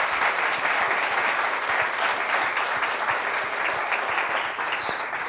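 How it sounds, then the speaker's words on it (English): A large crowd claps steadily and loudly, a dense unbroken wash of applause lasting throughout. "Why don't we give these folks a round of applause for joining us tonight?"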